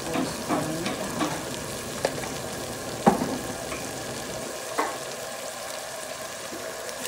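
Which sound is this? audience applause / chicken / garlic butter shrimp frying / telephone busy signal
garlic butter shrimp frying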